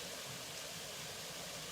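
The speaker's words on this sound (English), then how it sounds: "tumbling water." Steady rushing of water tumbling over rocks, a dense continuous roar with no pauses, fairly close and even throughout.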